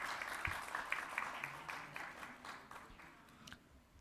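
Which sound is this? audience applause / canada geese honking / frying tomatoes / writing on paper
audience applause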